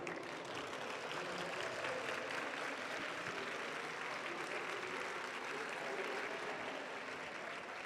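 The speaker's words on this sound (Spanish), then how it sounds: "otro aplauso muy fuerte, por favor" Steady applause from a crowd fills the whole stretch, dense and even, with faint voices mixed in.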